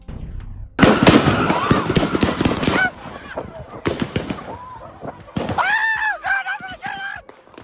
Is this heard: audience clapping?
no